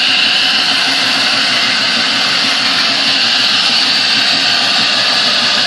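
A 1948 AMT table saw with a continuous-duty motor runs steadily and evenly, a smooth, constant whir and hum close by with no pauses and no talk.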